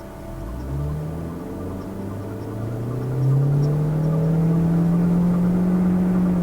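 A 2012 Scion iQ small car driving on a go-kart track, its engine droning close by and climbing steadily in pitch as it accelerates through the gears, with no voices.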